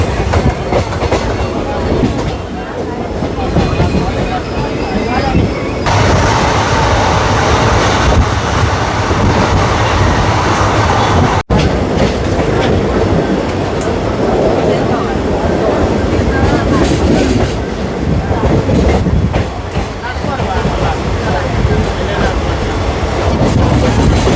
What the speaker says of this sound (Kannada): ಸಿನ್ನೂರು ಹುಬ್ಬಳ್ಳಿ ಪ್ಯಾಸೆಂಜರ್ ಟ್ರೈನ್ ಮಾತ್ರ ಈಗ ಅಣ್ಣಿಗೇರಿಗೆ ಬರೋ ಟೈಮಿಗೆ